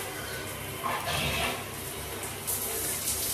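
A shower sprays steadily onto AirPods Pro 2 earbuds, making a constant close hiss and splatter of running water that swells slightly at moments.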